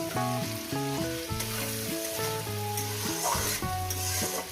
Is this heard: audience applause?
no